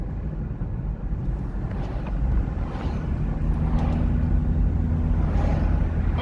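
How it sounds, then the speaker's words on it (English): Wind buffeting and road rumble inside a car cruising along winding Sunset Boulevard, a constant low roar with gusty swells and no talking. "So it's nice and windy in here."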